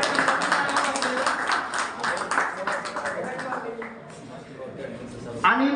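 An audience claps in welcome at a student felicitation ceremony, a sustained patter of many hands that gradually thins out. A voice speaks near the end.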